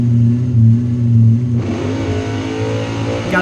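A drag race car launches wheels up from staging, its engine a loud, close, low droning roar that swells and then shifts in tone as the car pulls away.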